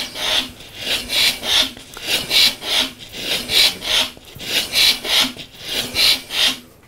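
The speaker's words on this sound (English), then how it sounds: "Did you hear it turn over for the first time?" A billet 20B three-rotor rotary engine being turned over by hand on the build stand, giving a smooth, steady rhythmic rubbing whoosh that rises and falls about once per second, close and alone.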